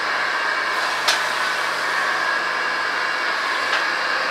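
A Hobart meat slicer runs while slicing deer meat, a steady mid-pitched motor whir with a hissy edge and two brief swishing peaks as slices come off the blade.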